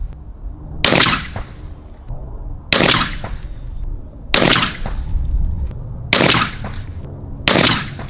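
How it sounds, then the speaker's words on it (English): Five loud, evenly spaced blasts from a 28 gauge Benelli shotgun with a Muller passing choke, fired at a pattern target 40 yards away, each shot followed by a brief outdoor echo. "I'm gonna go to 40 yards, I'm gonna shoot 5 shots and see what we get."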